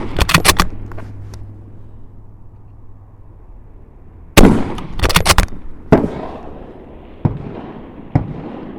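Bolt-action rifle fired rapidly at an outdoor range during a Thun bolt action challenge, ten rounds with a compulsory reload: loud sharp cracks, a tight early cluster, a pause, then a second burst and scattered single shots with echoing decay.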